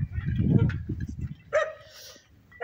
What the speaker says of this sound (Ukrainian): знову ці собаки